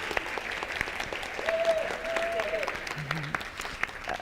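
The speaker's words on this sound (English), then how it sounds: "I just want to give one more round of applause" An audience at an Executive Women's Day event at the Wyndham Championship gives a round of applause, a steady, moderately loud patter of many hands with faint voices mixed in.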